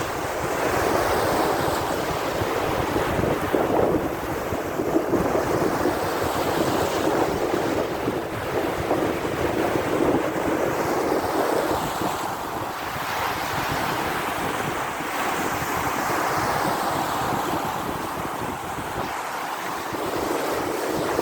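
Ocean waves wash and roar continuously onto the shore, loud and close, with gusts of wind buffeting the microphone and no voices.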